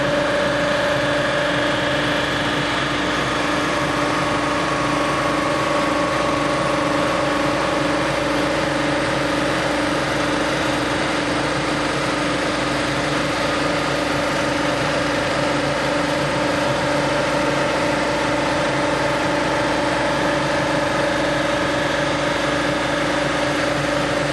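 A machine resurfaces a Volkswagen VR6 cylinder head, holding a loud, steady mechanical hum with sustained tonal whine throughout, unchanging and alone without voices.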